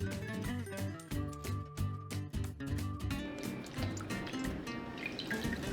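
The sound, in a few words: washing potato skins under running water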